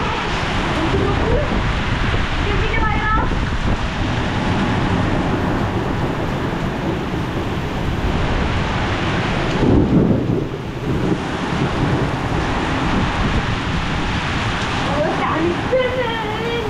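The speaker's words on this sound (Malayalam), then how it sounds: "ഭയങ്കരമായിട്ടുള്ള രീതിയിലുള്ള കാറ്റ് മഴ." A heavy wind and rain storm roars as a dense, continuous wash of rushing noise throughout, with a brief surge midway and faint voices now and then underneath.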